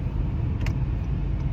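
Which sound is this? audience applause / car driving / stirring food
car driving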